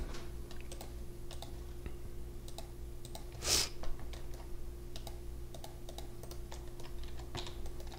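Mouse clicks and keyboard taps during 3D modelling at a computer, light and close, scattered irregularly over a steady hum, with one louder rustle midway.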